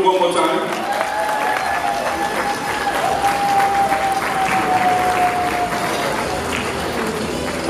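Sustained applause from a crowd at an awards ceremony, steady and full for the whole stretch, with a faint held tone running underneath.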